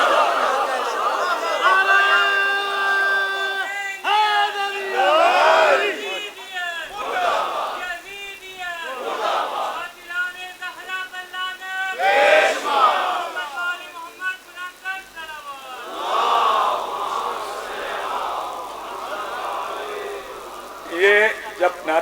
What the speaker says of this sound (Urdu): یہ جب نعرے لگے نا یزیدیت مرد آباد